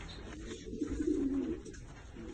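Pigeons at a pigeon show give a soft, low coo that swells for about a second over steady hall noise, with no one talking.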